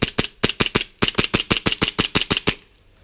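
Elite Force 1911 TAC airsoft pistol cycling rapidly, about fifteen sharp snapping shots in quick uneven bursts, loud and close, then stopping abruptly near the end with no talk.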